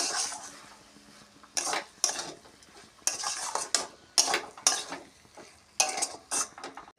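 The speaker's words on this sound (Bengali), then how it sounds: "আর কুচনো ধনে পাতা দিয়ে এটাকে ভালো করে নেড়ে নিতে হবে" A utensil stirs cooked pitulir shaak greens mixed with chopped coriander leaves in a pan. It makes a series of close, irregular metallic scrapes and clinks against a faint background sizzle.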